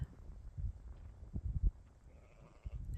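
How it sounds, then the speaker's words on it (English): Sheep bleating out in open countryside along a long walk in the Yorkshire Three Peaks, several low, wavering calls spread across the clip at moderate loudness, with wind-like rumble and no talking. "sheep just scared the crap out of me"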